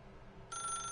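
In The Stanley Parable video game, a telephone starts ringing abruptly halfway through, a bright electronic trill entering over quiet game ambience.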